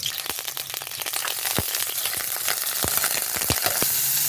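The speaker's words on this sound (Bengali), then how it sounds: "এখন আমি তেলের মধ্যে চিংড়ি মাছ টুকগুলো দিয়ে দেবো" Pieces of prawn fry in hot oil with a bright, continuous crackling sizzle, dotted with sharp pops and spits at irregular intervals, heard close and alone.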